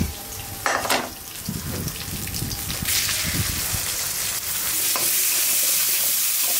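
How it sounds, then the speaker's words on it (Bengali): Onions and whole green chilies fry in extra oil for a bori and koi fish curry, giving a close, steady sizzle with stirring and a sharp spoon scrape near the start. "তেলের উপরে পেঁয়াজ আর কাঁচামরিচ ভাজা হয়ে গেছে।"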